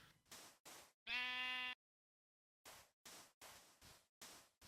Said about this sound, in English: It's just a sheep, right?